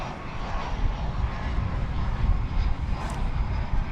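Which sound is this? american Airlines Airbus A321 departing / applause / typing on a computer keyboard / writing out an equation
american Airlines Airbus A321 departing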